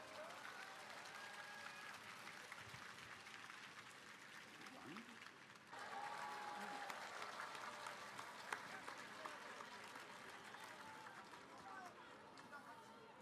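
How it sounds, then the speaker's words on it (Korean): A crowd at a Democratic Party campaign rally in Gwangju claps and cheers, dense sustained applause that swells partway through, with hubbub and scattered voices mixed in. "큰 박수로 맞이해 주십시오."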